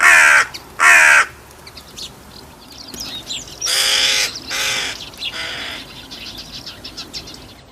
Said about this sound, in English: So here we go with some Hooded Crows.